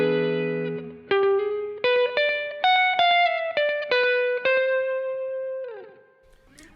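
A slow blues lick on distorted electric guitar, about a dozen sustained bent and picked notes rising then settling, each ringing with chorus-like shimmer before a final held note fades out.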